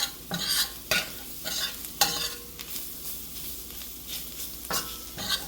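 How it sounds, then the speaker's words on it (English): Flour sauteing with tomato paste in a pan for stuffed cabbage sauce, with a low steady sizzle broken by repeated scraping stir strokes at an uneven rhythm, no voices. "So you're going to saute the flour with it maybe like 2 minutes"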